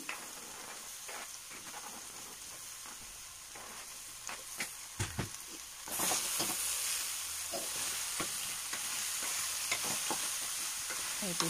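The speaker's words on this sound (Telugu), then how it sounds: "మగ్గిన తర్వాత బీరకాయ పీసెస్ని యాడ్ చేసుకోండి" Ridge gourd pieces fry in a pan with steady sizzling, joined by scraping stirs, and the hiss swells louder once the fresh pieces land partway through.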